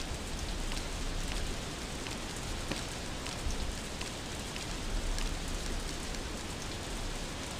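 Steady rainfall pattering on surfaces while fishing in a video game, a dense, even hiss of drops that holds constant and fairly close throughout with no voices.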